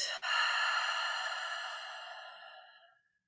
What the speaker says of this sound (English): Take a deep breath in, fill all the way up. And a long, slow breath out.